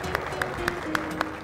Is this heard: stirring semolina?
no